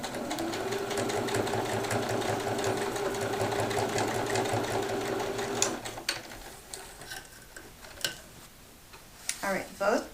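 A sewing machine tacks down a drawstring on a fabric bag, stitching forward and back in a steady close whir for several seconds, then stopping; fabric handling and a voice follow.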